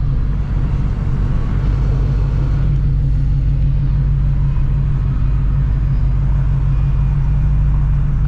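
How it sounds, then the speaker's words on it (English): A supercharged Shelby GT350 engine roars loudly and close by. The deep, heavy rumble holds steady for the whole stretch, with no talking over it. "This car is insanely loud, ladies and gentlemen, but not too loud."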